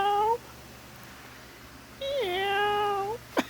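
A pet cat in New York meows twice up close, a short call followed by a longer, drawn-out wavering meow, with a brief sharp noise at the end.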